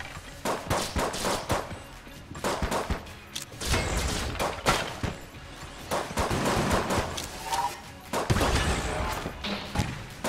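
Rapid, dense gunfire from a weapon in the video game Enter the Gungeon, with bursts of shots and thuds packed closely together over about ten seconds, with a voice occasionally talking.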